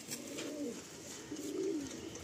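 A small, short-bodied Madrasi pigeon coos close by in a low, rolling rhythm, two soft throaty phrases over a steady background hiss, with no voices.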